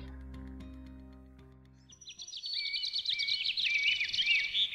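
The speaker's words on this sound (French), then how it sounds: "Le chant d'un oiseau me réveille." A small bird sings in the morning, bright rapid chirps and trills rising after a fading low droning tone, fairly close and clear.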